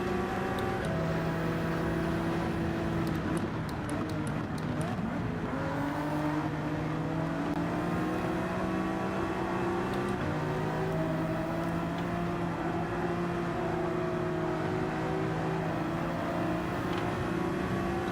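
Race cars in the Gran Turismo 7 video game lapping the Barcelona circuit during a Manufacturers Cup race, their engines a steady, layered drone with shifting pitch as the cars run close together, no talk.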